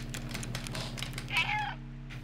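A cat meows once in the video game Stray, a short, clear call rising over a steady low hum of game ambience.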